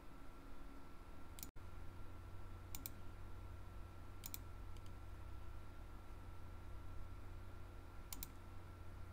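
Faint, sparse clicks from a mouse or keyboard in software use, a few isolated taps spaced seconds apart over a steady hiss, with no talking.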